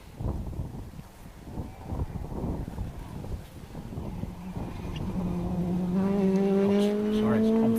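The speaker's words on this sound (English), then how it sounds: "Donegal's PJ McDermott away in his Citroen" A Citroen rally car pulls away from the start line at a rally near Cookstown, Ireland, its engine rising into a clear climbing rev note after a stretch of wind-buffeted ambience and muffled talk.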